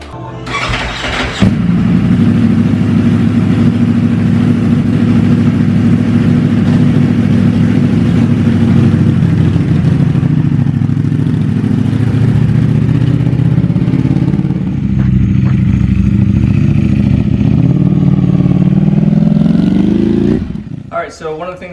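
Ducati Panigale V4 motorcycle engine starts with a sharp burst, then rumbles in a loud, steady idle as it rolls down a driveway, rising in a brief rev near the end before cutting off.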